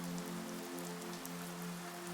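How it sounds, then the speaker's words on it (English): Rain pattering on the skylights of a lake cabin, a steady soft hiss of many drops falling evenly with no pauses. "soothing percussion against the skylights above, and everything winds down as you get lost in the sleepy rhythm of the rain"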